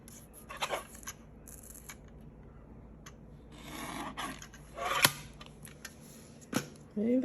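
Scissors trim paper during a papercraft session with die-cut negatives and vintage techniques. A few quiet, scattered snips and rasps come through with gaps of near silence between them.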